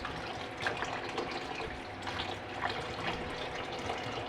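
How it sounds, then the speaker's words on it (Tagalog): Tap water runs steadily into a kitchen sink while chayote and chili leaves are washed under it, a continuous splashing stream with small shifts and bursts as the vegetables are moved about. "Naghuhugas po ako ng mga gulay. Naghuhugas akong sayote. Naghuhugas dahon ng sili."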